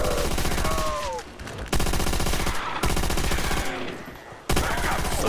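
An MG42 machine gun rattles off long, rapid bursts in a Call of Duty zombies match, loud and dense, broken by brief pauses between volleys.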